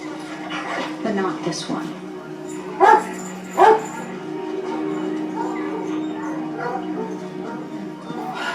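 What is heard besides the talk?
dogs barking in a TV show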